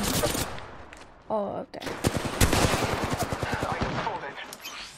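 Rapid automatic gunfire in the video game Apex Legends, a dense run of sharp bursts that fill the clip, with a brief pause and a player's voice talking over it.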